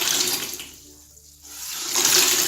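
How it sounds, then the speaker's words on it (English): Water splashes and trickles as a wet cloth is twisted and wrung out over a bucket, loud pouring at the start and again at the end with a quieter pause between. "Then to remove the water from this damp cloth"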